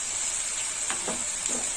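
Mourala fish sizzle in a pan of fried onion and spices with turmeric powder as they are stirred, a steady close hiss with a few soft scraping stirs.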